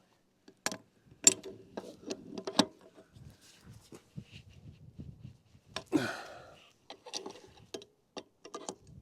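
Wrench ratchets in short clicking bursts while a hydraulic fitting is tightened on a Volvo ECR50F excavator, sharp metallic ticks spaced unevenly and close, with a brief louder scrape midway and quiet pauses between.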